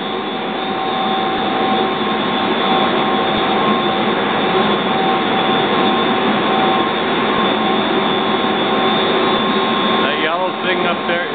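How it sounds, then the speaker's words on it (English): An industrial pump runs in a pump room beside large solenoid valves, a loud steady mechanical drone with tonal hum lines, unbroken throughout, with a faint flutter near the end. "This one is open, and this mated pump is running."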